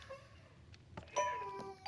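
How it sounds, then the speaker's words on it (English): A doorbell chimes in a clear, bright ding-dong tone that rings out partway through and sustains, heard faintly in a quiet room. "Your doorbell is ringing now"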